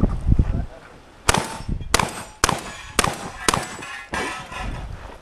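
Shotgun blasts ring out on steel targets at a subgun match shooting stage in Palm Bay, about six sharp reports each followed by a bright metallic clang, spaced roughly half a second apart, loud and close.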